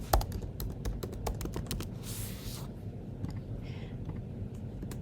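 Typing on a computer keyboard while writing web page content, with rapid irregular key clicks running nearly throughout at a close, moderate level over a low background hum.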